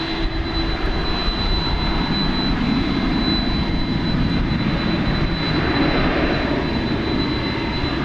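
An American Airlines jet in Air Cal heritage livery roars steadily on runway 18 left at DFW International Airport, a broad continuous engine rumble with a thin high whine held throughout.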